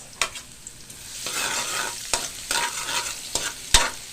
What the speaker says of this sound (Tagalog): umpisa nating gisahin yung ating bawang sa paggawa ng sauce, spaghetti sauce